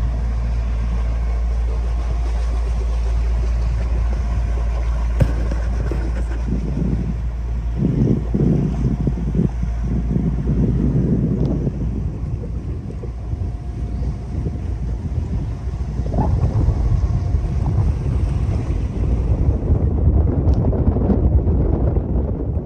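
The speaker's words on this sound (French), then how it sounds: "Et là c'est reparti avec 15-16 nœuds de vent." Steady wind with 15-16 knots of breeze rushes past the microphone while a sailboat makes way along the Turkish coast near Bodrum and Datça. A constant low roar carries intermittent gusty buffeting, and no voices are heard.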